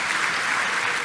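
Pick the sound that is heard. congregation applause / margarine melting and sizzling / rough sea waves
congregation applause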